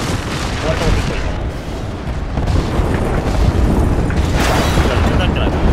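Dense, continuous booming blasts from an air strike in the battle royale shooter Apex Legends, loud and close, rolling together into a sustained roar with sharper bursts near the end.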